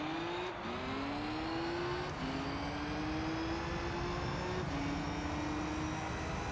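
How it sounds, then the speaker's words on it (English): Race cars roar in Gran Turismo 3, a Beetle RSi and an Audi S4 among them in a Turbo Cup event. Engines rise steadily in pitch through repeated gear shifts, loud and continuous, with no talking. "And we are racing."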